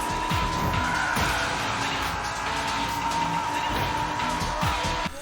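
Arcade race cars in Hotshot Racing drifting with repeated tire squeals and steady engine whine, skids sweeping past one after another, while someone talks over the game sound.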